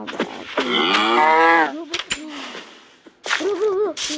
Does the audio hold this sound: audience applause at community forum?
no